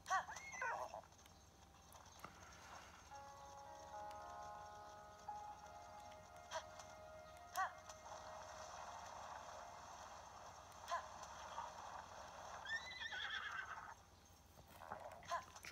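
Repeated horse neighs and whinnies with intermittent hoof clip-clops from a horse in The Legend of Zelda: Tears of the Kingdom, quiet and spread across the stretch, with game tones underneath.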